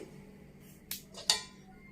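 Two quick metallic scrapes of a spoon against a kadhai as roasted semolina is emptied into another vessel, the second one brighter and sharper, close and fairly quiet against near silence.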